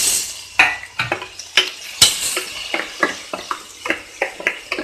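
Onion and tomato sautéing in oil for chicken soup, a spatula scraping and tapping the pan in a quick, uneven run of close, clear clinks over a low sizzle.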